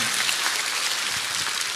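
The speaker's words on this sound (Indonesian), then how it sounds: "Tepuk tangan Tuhan Yesus" A congregation claps during an evening prayer church service, a dense, even roar of many hands sustained across the whole moment.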